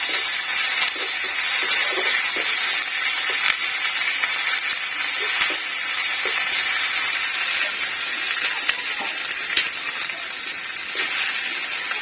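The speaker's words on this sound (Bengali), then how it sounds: "রসুন বাটাটা, রসুন আর আদা বাটাটা একটু ভেজে নিই" Garlic and ginger paste fries in a pan after the onions, for an egg shahi korma, making a constant, fairly loud hiss dotted with faint crackles and no talking.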